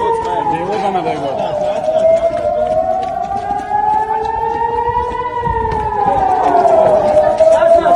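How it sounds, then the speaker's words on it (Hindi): A rocket-attack air raid siren wails in Ofakim, Israel, a loud rising and falling tone sustained throughout, with people's voices and movement beneath it. "वहां रॉकेट हमले का सायरन बज गया"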